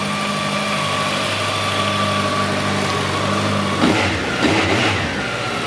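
A 2014 Honda CB1100 motorcycle idles steadily and quietly at close range with a smooth, even drone, broken near the end by a couple of brief louder bumps or blips.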